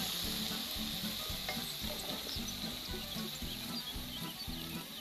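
Zucchini fries in a skillet with a steady, dense sizzle that fills the whole time. Soft low rhythmic knocks sit beneath it, and no one speaks.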